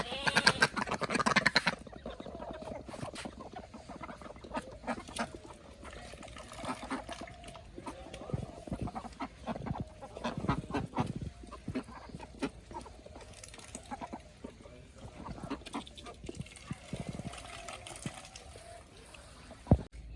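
Chickens in a Bangladeshi village yard cluck softly and sporadically from some distance, with scattered faint calls spread across a quiet outdoor background.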